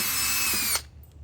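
A power drill whines loudly and steadily at high pitch while drilling into the metal of a 1995 Mazda Miata MX-5 shifter assembly, then cuts off abruptly, leaving a quiet hum.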